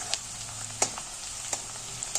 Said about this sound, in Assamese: আকৌ অলপ ভাজিম পিঁয়াজখিনি।